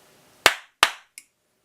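Two crisp hand claps in quick succession trigger an Arduino double-clap switch, close and alone in a quiet room, followed by a small faint click.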